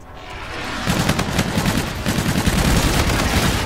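Rapid automatic gunfire rattles in the video game Call of Duty: Infinite Warfare, a dense, loud burst of shots that starts after a brief lead-in and keeps going steadily to the end.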